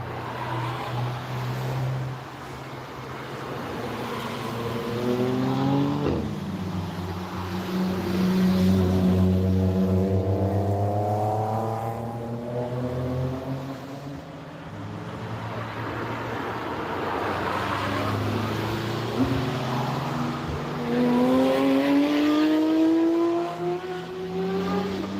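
A car is driven hard around the Nürburgring. Its engine note climbs repeatedly through the gears, each rising whine dropping sharply at a shift, over a constant road and wind roar heard from inside, with no talking.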